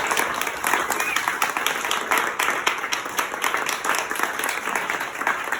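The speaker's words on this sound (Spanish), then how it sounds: "Un aplauso, por favor." An audience at a presentation event bursts into sustained applause, with dense, lively clapping that rises and falls slightly throughout. Some crowd voices mix in beneath it.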